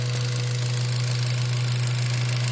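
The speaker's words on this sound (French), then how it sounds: "la voiture fait un bruit un peu bizarre parce qu'il n'y a pas le conduit qui va jusqu'ici" A Mazda 3 engine idling with its air intake duct removed, a loud steady low drone with a constant hum and a faint rapid ticking running evenly throughout, close up with no talking.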